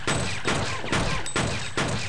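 Bursts of assault rifle fire in the action game Fear Effect, four loud clattering volleys repeating at an even rhythm about every half second, close and dense, with no talking.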